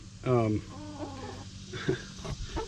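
A hen lets out a loud, drawn squawk, followed by softer clucks and chatter nearby, with a voice faintly present.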